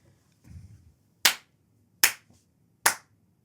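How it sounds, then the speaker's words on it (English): Three sharp, isolated hand claps spaced under a second apart, close and loud, marking the start of a podcast recording, with a brief soft rustle before them and quiet in between. "You need to do your clappy clap."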